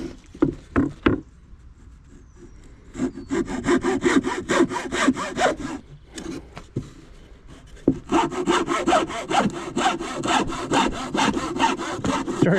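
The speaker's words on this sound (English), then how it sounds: "we got a hacksaw. I guess that would sort of work." Hacksaw cutting through wood outdoors during chores, with steady rhythmic back-and-forth strokes in two long bursts, separated by short pauses and a few knocks.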